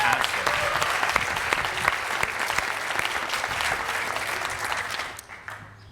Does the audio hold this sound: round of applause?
yes